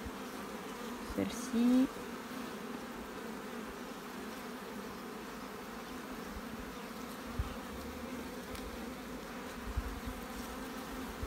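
Honey bees buzz on closed brood frames set into a hive, a faint steady hum throughout, with a brief quiet voice early on.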